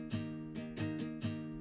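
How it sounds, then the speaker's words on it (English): An electric strum guitar panned to the left in an orchestral pop track plays rhythmic chord strums, four sharp, close downstrokes with ringing tones between them. "So I have the strum guitar on the left here"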